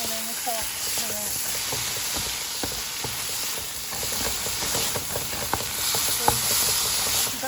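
Vegetables with soy sauce and pink Himalayan salt stir-fry for Singapore mei fun, a steady close sizzle broken by repeated clicks and scrapes of stirring throughout.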